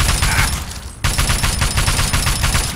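Assault rifle gunfire in Fallout 3, a loud, close, rapid automatic burst of rattling shots with a brief break near the one-second mark before the firing resumes.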